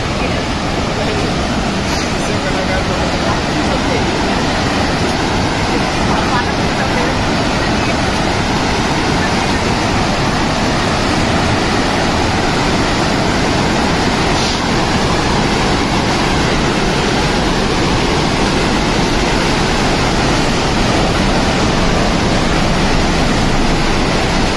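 A waterfall at Bhandar village on the Hemkund Sahib trek roars as a steady, loud, unbroken rush of water that fills the whole clip, with voices faintly mixed underneath.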